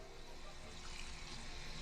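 Tap water running steadily into a sink while hands are rinsed, a continuous dense splashing rush that stays even for the whole stretch, close and moderately quiet.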